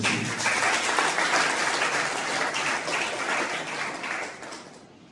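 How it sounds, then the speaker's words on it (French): Audience applause at a young leaders' leadership conference, a dense wash of clapping that swells at once and slowly fades over about five seconds, with no talk over it. "Applaudissez le Seigneur."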